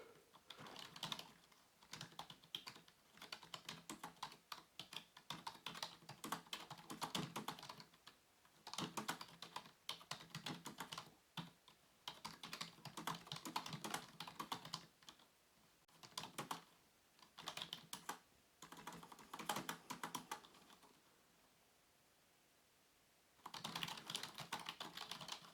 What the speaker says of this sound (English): And giving you a closer look as I press on the keys.